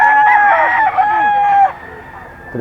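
A rooster at a gamefowl sale in Bulacan lets out one loud, close crow that rises and trails off, with faint background murmur behind it.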